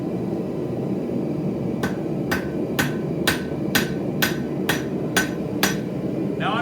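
A hammer flattens a piece of metal for a coffee scoop handle, striking eight sharp, evenly spaced blows close up over a low background hum, with no talking.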